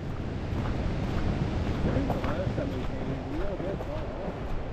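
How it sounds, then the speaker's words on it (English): Ocean waves surging as a steady broadband wash, buffeted by wind noise, while someone talks over them. "man and them waves sound awesome"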